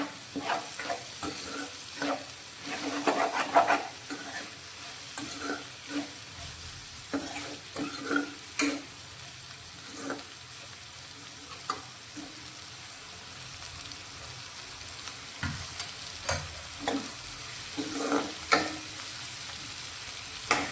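Spiny gourd (kankoda) curry simmers uncovered in a pan, a soft steady sizzle broken by repeated scraping stirs of a spoon, close and moderately quiet with no voices.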